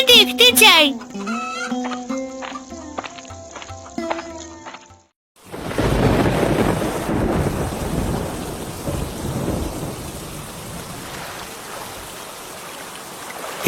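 A storm with thunder and heavy rain. After a short musical opening and a moment of quiet, a loud wash of rain and rumbling thunder rises and carries on, near and continuous.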